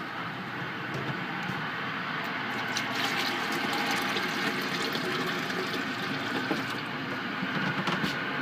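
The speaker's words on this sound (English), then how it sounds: "the water should be pumping up from the bottom through the grain" Homebrew all-grain setup with a pump circulating water up from the bottom through the grain, a steady continuous wash of flowing, trickling water and pump hum, even in loudness throughout with no talking.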